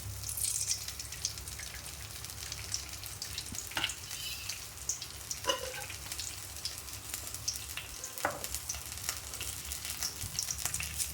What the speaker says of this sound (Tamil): கொஞ்சமாக எண்ணெய் ஊற்றிக்கிறேன்